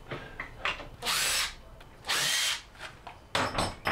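A power drill drives a screw into a wooden hat rack being fitted with shelves, with two loud, steady bursts of whirring, each about half a second long, separated by quieter handling and tapping noises.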